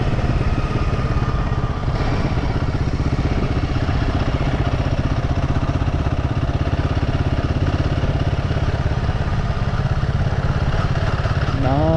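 A Royal Enfield Himalayan 452 motorcycle engine runs steadily throughout, a continuous low rumble with clattering texture, close and loud, with no talking.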